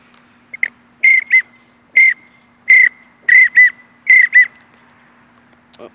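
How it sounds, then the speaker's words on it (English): A Primus mallard drake duck whistle blown in a series of short, sharp, high-pitched peeps, mostly in pairs, clear and close with quiet gaps between. "Here is your Primus Drake whistle"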